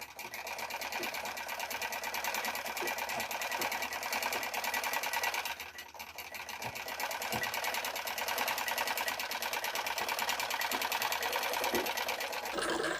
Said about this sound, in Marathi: तर अशा प्रकारे आपल्याला शिलाई देऊन घ्यायची असते।